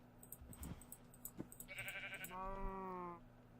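Sheep in the Minecraft video game bleat in short, buzzy, nasal calls, several in quick succession, fairly close and clear over faint background game noise.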